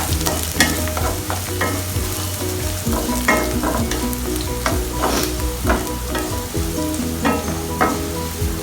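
Carrots sauté and sizzle in a hot pan for fried rice, with steady frying crackle and repeated scraping stirs of a spatula, close and continuous, no speech.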